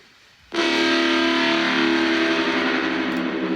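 A thick, distorted synth bass tone cuts in abruptly after a brief quiet moment and holds loud and steady, dense with buzzy harmonics.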